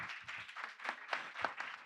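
A small group claps at a startup demo day, a brief, fairly faint burst of separate, distinct claps in a loose uneven rhythm.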